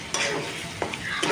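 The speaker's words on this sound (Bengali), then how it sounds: "দিয়ে আবার বেশ কিছুক্ষণ ভালো করে মশলা কষাতে হবে।" Spice paste for chicken curry being stir-fried, a spoon scraping and stirring through sizzling oil in a pan, with a few distinct scrapes over a steady sizzle.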